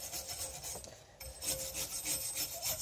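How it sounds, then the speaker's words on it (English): A wire brush scrubs rust buildup from a front brake hub on a VW with a 2.5L engine, giving quiet, steady rasping strokes in a rhythmic back-and-forth with a short pause midway and no talking. "What I usually like to do with these hub assemblies is clean them up with like a wire brush of some sort."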